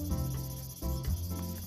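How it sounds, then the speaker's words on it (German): A startled cicada in the video game Story of Seasons: Doraemon gives off a loud, steady, buzzing insect drone. It runs nearly without pause, with a couple of brief dips in intensity. "Oh, ich glaube, ich habe gerade eine Zikade aufgeschreckt."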